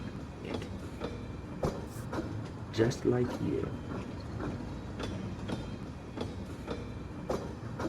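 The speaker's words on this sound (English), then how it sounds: "No one sells tickets to ride this train." Train rolling along rails in Pathologic 2, a steady rumbling ride with rhythmic clickety-clack and mechanical rattles running throughout, while a voice speaks briefly over it.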